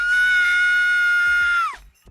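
A man in a Simpsons cartoon lets out a long, loud, high-pitched scream like a woman's, sustained for nearly two seconds before cutting off sharply, with brief low thuds underneath.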